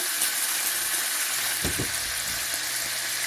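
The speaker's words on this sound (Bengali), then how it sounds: "চিকেনটাকে আমি প্রায় 1 মিনিটের মতো এখানে ভাজবো" Chicken pieces fry in a pan for a spicy pasta dish, giving a constant loud hissing sizzle with a couple of soft low thumps in the middle.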